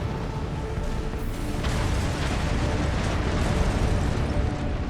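A large explosion rumbles in the Armored Core 6 mech game, a sustained roaring blast of dense low noise that stays loud and steady for several seconds.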